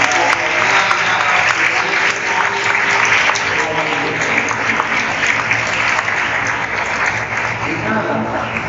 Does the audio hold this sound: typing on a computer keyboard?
no